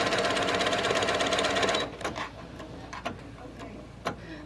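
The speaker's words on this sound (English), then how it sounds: "Let me sew it real quick so you can see how it fits." A sewing machine stitches a quilt corner block in a loud, fast, steady run for about two seconds, then stops, leaving a few faint clicks and taps of handling.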